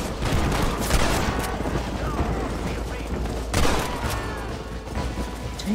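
Gunshots in Red Dead Redemption crack in a rapid, uneven volley, with two sharper, louder bursts standing out from the steady chatter of fire and faint voices in the mix.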